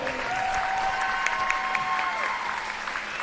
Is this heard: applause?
yes